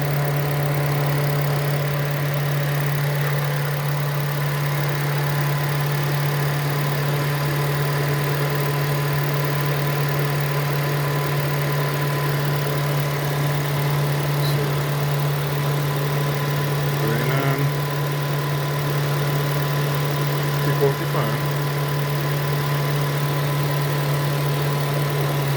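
Continuous steady whirring of a Nissan Tiida C11 radiator cooling fan, overheating with a clogged radiator, with a droning hum and faint tonal whine, unbroken for the whole stretch, no voices.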